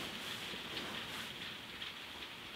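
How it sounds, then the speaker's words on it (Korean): Heavy rain falling steadily, a dense even hiss of drops spread across the whole stretch, faint and distant with no voices. "비가 많이 오네"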